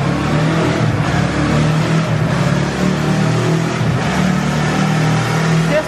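A Yamaha MT-03 motorcycle in sixth gear on a dynamometer, its engine droning loud and steady at a sustained rev with a constant mid-pitched roar and no break in the sound.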